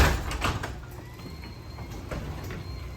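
A door rolls on rollers and hinges freshly treated with WD-40 dry lube, giving a steady, fairly quiet sliding rumble with faint scrapes and knocks throughout.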